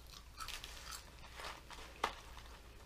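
Close, crisp crunching as Arby's curly French fries are bitten and chewed, a few soft crunches building to one sharp bite, with no talking.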